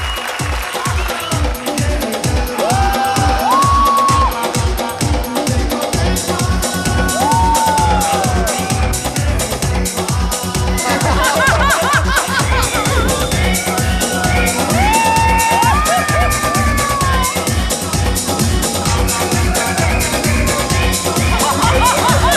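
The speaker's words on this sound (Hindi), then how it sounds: "जोरदार तालियां।" A comedy show studio audience claps and cheers in a loud, dense burst that holds for over twenty seconds, with whoops rising over a pounding rhythmic music beat.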